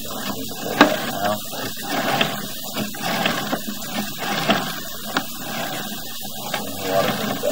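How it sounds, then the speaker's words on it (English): Water runs from a bath sink into a drain line, a steady hissing rush with intermittent gurgling surges and faint mechanical clicks, continuous throughout. "And water from the bath sink."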